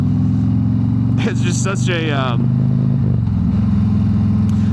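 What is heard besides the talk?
Harley-Davidson Road Glide 3 trike engine while riding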